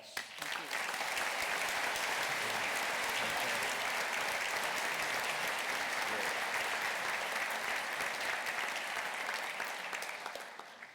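A commencement audience at an architecture, planning and design ceremony breaks into a long round of applause, many hands clapping in a full, even roar that swells quickly and tapers slightly at the end.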